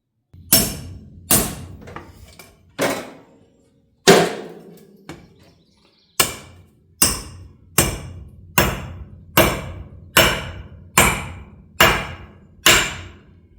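Hammer blows drive a small metal wedge into the head of an axe handle: about a dozen sharp, ringing strikes, spaced unevenly at first and then in a steady rhythm, loud and close with no talking.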